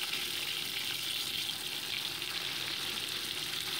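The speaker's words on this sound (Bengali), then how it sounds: "এবার কড়াইতে সামান্য তেল অ্যাড করে দিয়ে দিচ্ছি আমি গোটা জিরে, আর দিয়ে দিচ্ছি কেটে রাখা আলুর টুকরোগুলো।" Whole cumin seeds and potato pieces frying in a little oil in a wok, a steady, close, dense sizzle that holds evenly throughout with no talking.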